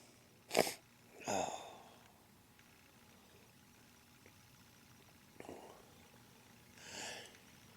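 Two sharp sneezes close together near the start, then a sniffle and a third, softer sneeze later, with no talking.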